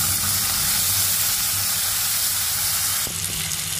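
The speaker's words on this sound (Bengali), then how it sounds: "এবার পেঁয়াজটাকে ট্রান্সপারেন্ট হওয়া অবধি একটু ভেজে নেব।" Chopped medium-sized onion fries with garlic in a pan, giving a dense, continuous close sizzle with no talk. A brief stir or clatter shifts the hiss about three seconds in.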